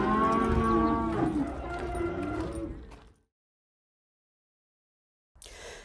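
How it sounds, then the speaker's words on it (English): Cattle at a livestock auction market moo loudly and close by for about three seconds, several overlapping calls, then silence before a brief burst of noise. "Not to mention the cows."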